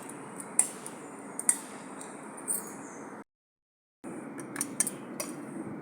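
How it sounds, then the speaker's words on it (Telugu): Raw snack ingredients (chilli, lime juice, cumin, ginger, onion) being stirred together in a bowl, giving soft scraping with a few light spoon clinks, quiet and close, broken by a short silent pause midway. "మొత్తం అన్నీ నీట్గా కలిపేసుకుందాం."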